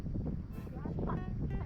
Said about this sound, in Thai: สายลมเนาะ